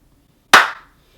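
A single sharp hand clap, close and loud, alone in an otherwise quiet room with a short decaying tail.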